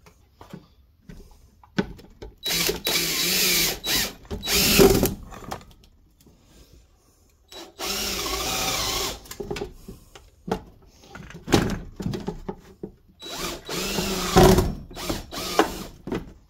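A homemade vibration rock tumbler on a sturdy stand fastened with deck screws runs in loud bursts, rattling and buzzing with mechanical clatter, stopping briefly between runs.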